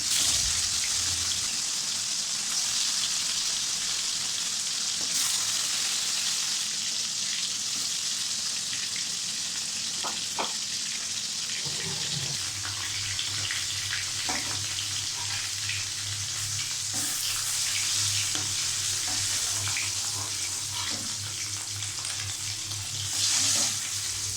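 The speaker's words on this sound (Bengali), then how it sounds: "এরকমভাবে আমি একে একে সবগুলো মাছ ভেজে নেব" Pieces of stingray fish fry in hot oil in a pan, a steady close crackling sizzle lasting throughout with occasional stirring clinks and a low hum joining partway, no talking.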